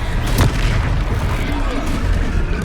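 A Confringo blasting spell explodes in the Hogwarts Legacy video game, a heavy boom with a sharp burst near the start that rolls into sustained rumbling battle noise, with voices shouting over it.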